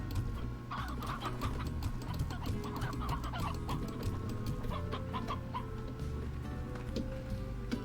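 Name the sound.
chickens clucking in the video game Slime Rancher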